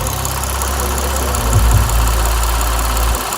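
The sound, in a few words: rebuilt 2006 Lexus IS350 engine idling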